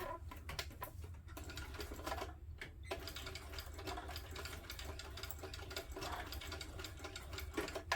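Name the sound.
sewing machine stitching a sling bag strap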